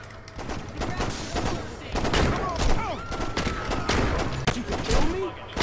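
Pistol gunshots in Saints Row 2, a steady run of sharp shots through the whole stretch, mixed with game noise and voices in the background.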